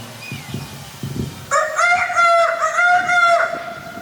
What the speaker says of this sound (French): un coq chanta pour la seconde fois.